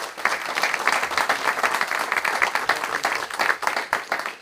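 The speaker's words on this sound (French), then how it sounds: "je voulais vous demander de faire un tonnerre d'applaudissements à Loïc" A live audience at a Sylius tech community event breaks into loud, sustained applause for an organiser, dense clapping running steadily throughout without a break.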